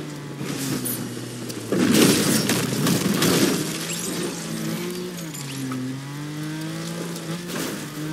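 A car gets wrecked in the video game Fortnite: a crunching, shattering burst of breaking glass and metal lasts about two seconds, over a steady tonal game hum that carries on afterward.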